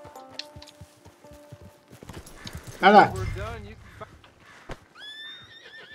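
A horse whinnies loudly amid clip-clopping hooves in the video game Red Dead Redemption 2, with footsteps and other game sounds around it and a man exclaiming over the action.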